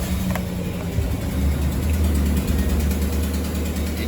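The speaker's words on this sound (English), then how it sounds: "And to do that, we'll start the truck." A Chevy or GMC pickup engine runs in a garage during a brake job, a steady low mechanical rumble with faint clicking and whirring, continuous and fairly loud throughout with no talk.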